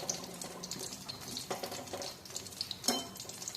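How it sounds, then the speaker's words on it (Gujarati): Samosas fry quietly in hot oil, a soft steady sizzle with small bubbling pops and crackles throughout, no voices. "હવે એને આપણે તળાવવા દઈશું."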